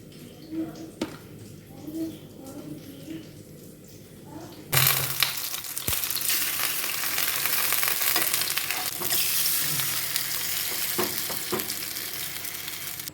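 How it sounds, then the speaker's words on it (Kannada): Fish is dropped into a hot pan after a quieter stretch with people talking, and a loud, close sizzle suddenly bursts up and keeps crackling steadily, with occasional stirring clinks underneath. "ಮೀನು ಫ್ರೈ ಆಯಿತು"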